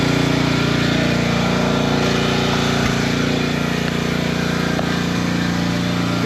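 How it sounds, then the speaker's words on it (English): Steady, loud engine drone running continuously and close, consistent with a pressure washer at a drive-your-tractor-to-school day, with no voices over it. "So as you can obviously hear, there's a pressure washer."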